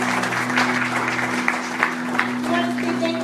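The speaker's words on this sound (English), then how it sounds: "You want to give yourselves a round of applause?" A church congregation at a worship service applauds, with a moderate wash of clapping over a steady electrical hum and some voices mixed in.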